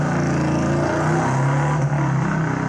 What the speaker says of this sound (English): We've got a motorbike sample that I've just found.